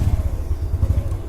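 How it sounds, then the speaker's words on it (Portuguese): A motorcycle engine rumbles low and steady as the bike passes and starts pulling away, a close, moderately loud throbbing drone with faint clatter and no voices. "Deixar a moto sair,"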